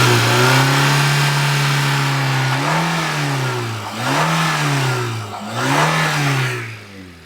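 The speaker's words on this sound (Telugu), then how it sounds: "సరే ఇంజిన్ రేస్ చేస్తాను చూడండి." A used Maruti WagonR hatchback engine idles steadily, then is revved in three rising and falling swells close by, with no talking.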